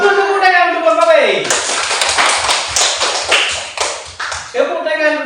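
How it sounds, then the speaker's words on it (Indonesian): A classroom group claps for a team, a dense burst of applause lasting a few seconds, framed by a teacher's voice before and after. "Itu tepuk tangan untuk kelompok B."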